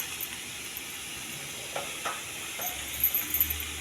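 Tempering sizzles faintly in a pan holding boiled kabuli chana and peas with salt and turmeric, a soft continuous hiss broken by a few small crackles and pops.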